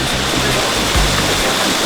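Steady, loud rush of river water flowing near a Jamaican swimming spot at a parish border, a dense continuous wash with low rumbling, close by and unbroken.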